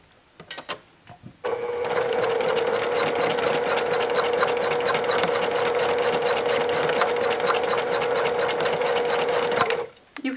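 Sewing machine stitching a skirt seam, a steady, rapid mechanical whir running continuously for about eight seconds, close up, with a few handling clicks before and after.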